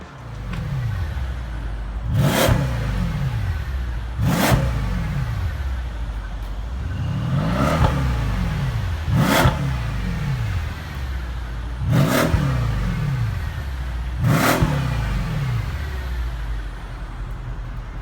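A 2016 Mercedes-AMG S63 sedan revs repeatedly. Six sharp throttle blips rise and fall at a steady rhythm over a deep, loud idle burble, close by and with no talking.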